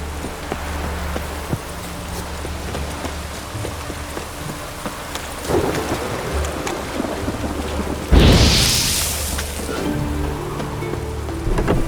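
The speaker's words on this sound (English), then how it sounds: "It just rains and rains." Steady rain falls across a dark outdoor scene in The Witcher 3 video game, with distant thunder rumbling and a sharp, loud crack of close thunder about two-thirds through, then rain continuing alone.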